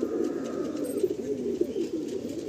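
Pigeons coo steadily at a pigeon sale, a low continuous layered warble from several birds nearby, with faint background rustle and no talk.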